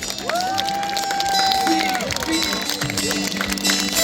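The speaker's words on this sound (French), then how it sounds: "Vous pouvez les accueillir à nouveau sous un tonnerre d'applaudissements" An audience applauding knights at a medieval show at the Dragonia fair in Gerpinnes, a steady crowd clapping under someone speaking loudly over a sound system, with a few high cheers mixed in.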